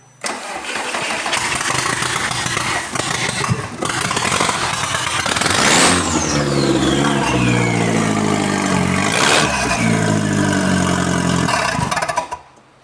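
A car engine with no exhaust cranks and catches, then roars as it revs up and down loudly and roughly, with a raw unmuffled tone; a VW 20-valve turbo engine swapped into a Toyota MR2.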